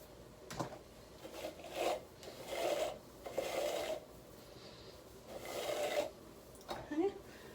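Tangle Teezer brush pulled through curly natural hair in a series of rasping strokes, close and moderately quiet, with a brief voice between strokes.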